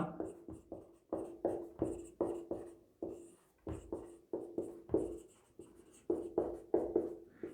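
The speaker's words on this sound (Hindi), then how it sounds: "यहां पे कोलराउस का नियम को लिखते हैं" Chalk or marker writing on a board during a chemistry lesson, a steady series of short rhythmic strokes and taps with brief pauses between bursts, close and moderately loud, with no talking.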